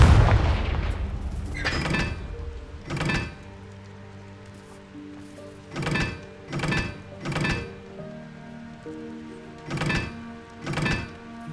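Explosive blasting spells go off in the Hogwarts Legacy video game, a series of about seven booming thuds in irregular bursts with ringing tones between them and no talk.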